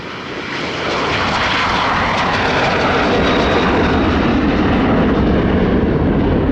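An airplane takes off from runway 30 left at Minneapolis–St. Paul airport, its engine roar swelling within the first second, then holding loud and broad and steady.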